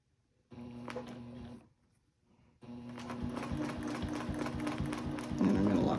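A sewing machine stitches a clam shell quilt in two bursts, a short run, a brief pause, then a longer steady whirring run close up with rhythmic needle clatter.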